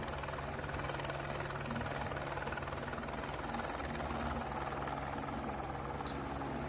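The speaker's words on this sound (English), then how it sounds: "Now that's the helicopter. It's landing, displacing everything, every light object on its way." A landing helicopter's steady, loud rotor roar fills the whole stretch, a dense rumbling drone with a constant low hum and no voices.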